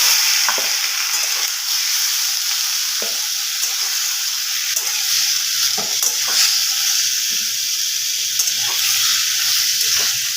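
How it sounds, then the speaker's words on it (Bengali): Bottle gourd frying in a pan with yogurt, spice paste and fried onion, a steady loud sizzle broken by occasional stirring scrapes, with no voices. "ভালো করে একটু ভাজা ভাজা করে নেব"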